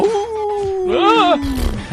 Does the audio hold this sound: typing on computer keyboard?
no